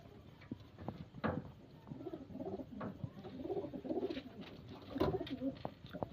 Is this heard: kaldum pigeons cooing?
yes